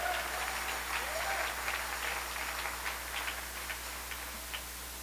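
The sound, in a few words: audience applause for the choir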